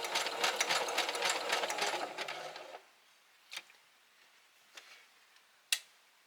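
A sewing machine stitches across a denim-bottomed rope bowl with a fast, steady mechanical whirr for nearly three seconds, then stops, leaving a few faint clicks and taps.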